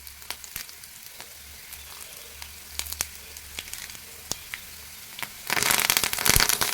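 Curry leaves and dried chillies go into hot oil. Faint, scattered pops and crackles are followed by a sudden louder burst of sizzling and spitting that continues to the end.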